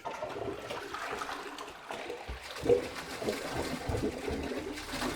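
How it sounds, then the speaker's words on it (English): A household toilet flushes with a rushing, gurgling swirl of water, followed by wet thumps and sloshing as it is plunged, fairly close and with no talk over it. "We're going for another flush, and I'm gonna plunge it."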